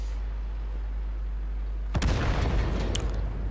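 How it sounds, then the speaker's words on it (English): An AMX 50 100 tank blows up in World of Tanks: one sudden, loud, close explosive blast cuts through a low steady hum, then a rumbling crackle fades over the following second or so. "And the AMX 5100 next to Gleb explodes"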